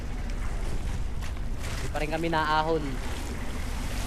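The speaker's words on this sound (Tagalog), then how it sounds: "Sobrang palakas na ng palakas ang alon." Sea waves wash and rumble continuously under wind noise, heard from a small fishing boat on rough water, with a person talking briefly in the middle.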